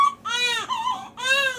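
A newborn baby girl cries at home, loud and close, in three strained wailing bursts with brief catches of breath between them. No one speaks over the crying.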